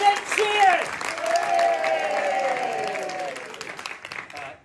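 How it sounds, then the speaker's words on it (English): An audience at a comedy hypnotist show on a seaside pier claps loudly and steadily, with some voices over the applause that fades toward the end. "You can clap louder than that."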